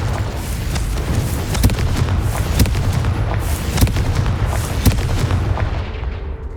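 Confringo blasting spells exploding in the Hogwarts Legacy video game, loud repeated bursts and sharp cracks landing every second or so over a constant thick rumble of battle noise, with no talking.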